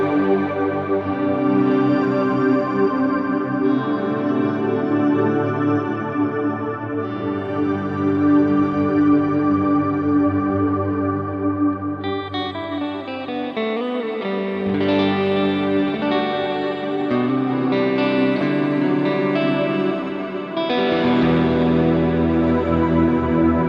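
Huge guitar reverb swells from a Line 6 HX Stomp, sustained shimmering chords blooming and washing together in a dense, continuous wall of sound that shifts midway, with no voices.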